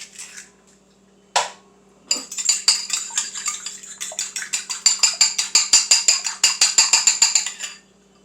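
An egg is beaten for fried flounder, a fork whisking rapidly against a bowl in a quick, steady clicking rhythm that grows louder and faster before stopping, close up with no talking.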